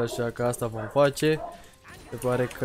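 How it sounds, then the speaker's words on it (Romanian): A dog barking repeatedly in the background of a room during League of Legends play, a run of sharp barks partly overlapped by someone talking in the foreground. "dacă auziți lătrături pe fundal,"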